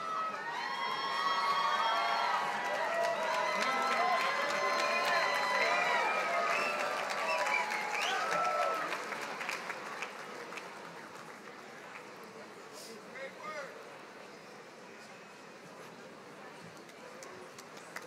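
Commencement crowd at a USC Price ceremony applauding and cheering a doctoral graduate, lively clapping and whoops at first that thin out and fade to a softer murmur.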